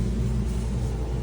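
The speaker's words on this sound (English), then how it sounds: "We got a storm coming in, so we hear thunder." Deep, continuous low rumble like distant thunder from an approaching summer storm over a campground at Choke Canyon State Park, steady and moderately loud throughout with no voices.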